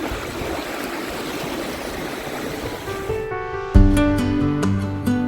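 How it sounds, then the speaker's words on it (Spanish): A mountain stream murmurs steadily outdoors in Villa La Angostura, Argentina, a close, continuous rush of flowing water. Near the end, tonal music-like notes rise over it. "ideal para quedarse escuchando el murmullo del agua"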